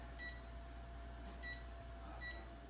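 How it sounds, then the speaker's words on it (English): A kitchen timer is set for 30 minutes, three short electronic beeps spaced evenly apart over a faint, steady appliance hum, with no talking. "Now we're going to set our timer for 30 minutes."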